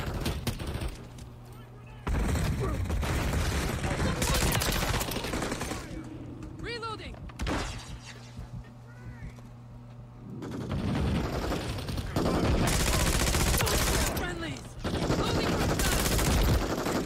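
Gunfire in Call of Duty: Modern Warfare 3, repeated bursts of automatic weapon fire in several loud stretches with quieter gaps between, mixed with mechanical clicks and game sounds.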